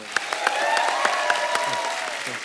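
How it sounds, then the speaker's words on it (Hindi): A studio audience on a comedy talk show applauds warmly and continuously for a few seconds, dense clapping with a few sharper individual claps standing out, while a voice carries faintly beneath. "पहले तो दोनों भाइयों के लिए जोरदार तालियां।"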